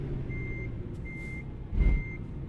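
A truck in a truck simulator game gives three evenly spaced reversing beeps over a steady engine drone. A heavier thump or hiss of air comes near the end.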